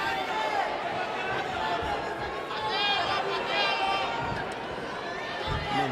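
A crowd in Mexico at a karate fight, a dense steady roar of chatter and cheering with commentators' voices over it throughout.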